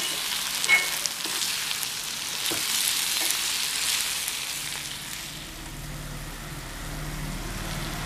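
Brinjal pickle masala with eggplant pieces sautéing in a pan over a medium flame, a steady close sizzle with occasional stirring scrapes; the sizzle fades partway through and a low hum takes over.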